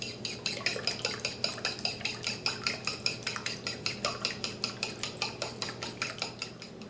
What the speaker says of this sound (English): The next step is to beat 8 large eggs